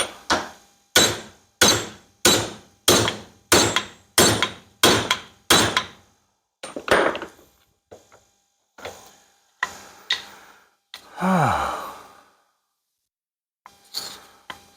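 Steady, loud metallic hammer blows on a universal joint being driven out of a vehicle driveshaft yoke, about ten evenly spaced strikes followed by scattered clanks and a scraping rattle, with no talking.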